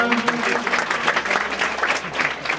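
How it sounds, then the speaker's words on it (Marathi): Students at a Raigad district council school in Kelavane clap hard together at a welcome ceremony, giving loud, dense applause with a faint murmur of voices. "सर्वांनी जोरदार टाळ्या वाजवा"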